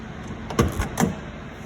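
A couple of quick clunks and a latch click as a classic car's door is opened, close by in a quiet storage space.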